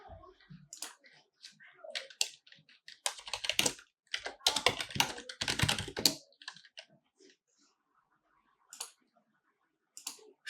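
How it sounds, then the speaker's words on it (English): Bursts of rapid typing on a computer keyboard come in quick clattering runs separated by pauses, close and moderately quiet, with a few isolated key clicks near the end. "If you hear typing, that is just me making alerts"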